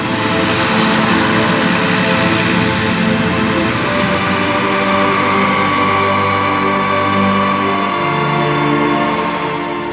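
An Indian Air Force transport aircraft flies by, its engines roaring in a loud, steady drone that holds for the whole stretch and swells slightly midway with no voices over it.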